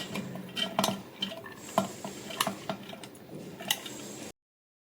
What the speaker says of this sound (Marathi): मिक्सरचं भांडं घेऊन त्यामध्ये डाळ काढून घेऊया